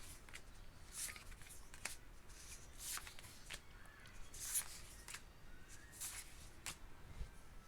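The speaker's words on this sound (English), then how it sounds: "let me see if we can get this a good shuffle" A tarot card deck is shuffled close up in quiet, repeated crisp riffles and soft flicks, with a faint steady hiss behind and no talking.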